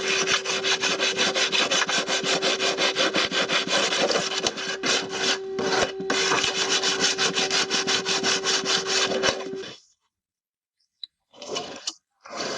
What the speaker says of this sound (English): we'll thoroughly sand both cut surfaces with sandpaper